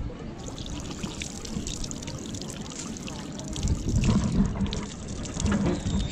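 Drinking water pours from a tap at a restaurant in a steady, close trickle that grows fuller and louder toward the end, with someone speaking briefly over it.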